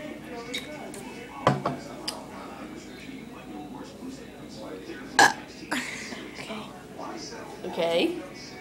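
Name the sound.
person burping in a burp contest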